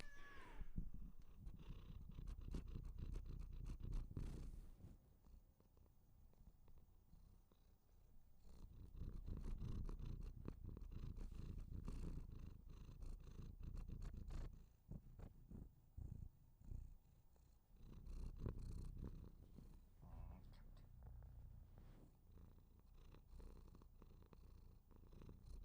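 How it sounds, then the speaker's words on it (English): A cat purrs close to a microphone in a long, steady low rumble, rising and falling in rhythmic waves with brief breaks and shuffling handling noise. "I think we can pick up some audio of the cat."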